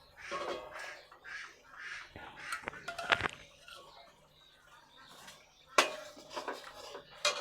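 Chana dal with mutton fat is poured into a pot of boiling spiced water, giving close splashing and metallic clanks from the pot and utensil, with some clattering and brief vocal sounds between.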